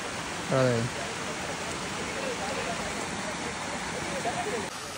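Water rushing steadily over rocks at the top of a waterfall near Sakleshpur, a broad continuous wash heard close; a brief voice-like sound breaks in near the start.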